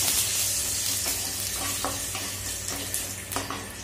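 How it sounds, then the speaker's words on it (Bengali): Dried chili, cumin and mustard seeds crackling in hot oil, a loud steady sizzle with scattered sharp pops and a few stirring scrapes, with no voices. "এই যে ফুটফাট শব্দ হচ্ছে মানে হয়ে গেছে ফোড়ন"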